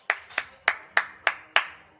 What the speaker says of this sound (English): A lot of cheers in the crowd there.